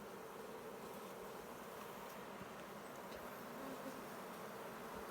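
Honeybees carrying orange pollen loads crowd a large, heavy hive frame, giving a steady, dense buzzing hum that continues without pause throughout.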